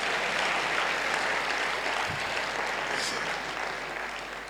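Steady applause from an audience at a talk, a continuous wash of clapping that holds evenly and then gradually fades toward the end.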